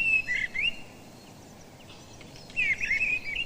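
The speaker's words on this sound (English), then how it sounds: "The song may be heard as early as February and consists of short, flute-like phrases, more like a blackbird's than the song thrush's, but quite strident." A thrush in a British garden sings two short, strident, flute-like phrases separated by a brief pause, clear and fairly close with no other sounds.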